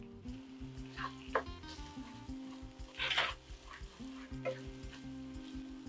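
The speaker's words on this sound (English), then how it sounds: "toast the spices to release the essential oils which hold their flavors" Spices and tomato paste frying in a single pot for a corn and beans githeri, a steady close sizzle with scraping stirs and occasional louder bursts of crackle.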